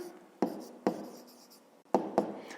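Pen or pencil writing by hand on paper during a math exercise, with four sharp taps or strokes spaced through a soft, quiet scratching, close and alone with no talk.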